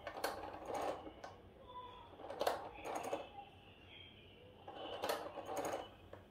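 Crank turning on an 1897 Payen P3A arithmometer calculator, giving close, quiet mechanical clicking and whirring in three short bursts with faint ratcheting between them.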